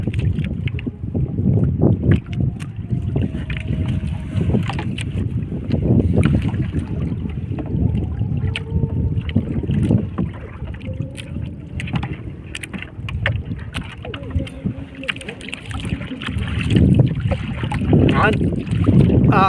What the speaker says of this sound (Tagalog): Ay, mananagwan na tayo, pauwi mga lods.